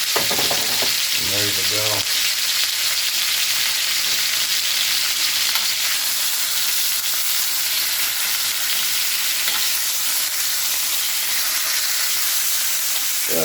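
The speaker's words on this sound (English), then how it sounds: "But also I want to cook those onions down a little bit." Onions frying in a cooker pot for Mexican pozole, a steady loud sizzle and hiss running throughout with brief stirring clatter near the start and a short spoken line over it.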